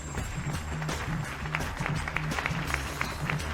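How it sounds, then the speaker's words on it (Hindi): Audience applause welcoming a new company chairman, a continuous wash of clapping from many hands at moderate loudness, with low crowd murmur and some rhythmic thumping underneath. "सब लोग जोरदार तालियां बजाएं जियोलोंग कंपनी के नए अध्यक्ष का स्वागत करने के लिए"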